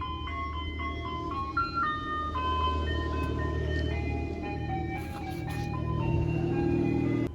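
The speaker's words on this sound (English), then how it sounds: "Ice cream sound in the back." An ice cream truck jingle plays in the background as a run of bright melodic notes, steady and fairly distant, over low vehicle and street rumble with no talk.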